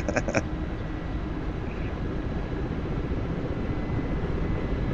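A Huey helicopter in the combat flight simulator DCS World drones with a steady, dense engine and rotor roar that holds even and loud throughout, with a couple of faint brief clicks near the start.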